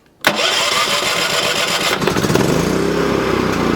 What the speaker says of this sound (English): so we'll start it without the choke pulled out